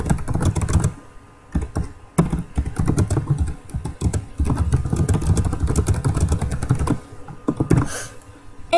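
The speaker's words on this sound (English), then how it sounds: "I'm just gonna have to type this all" Rapid clacking keystrokes on a computer keyboard run steadily and close up, in dense bursts broken by a few short pauses.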